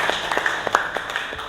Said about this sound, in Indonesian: Ya, beri tepuk tangan untuk Yoga.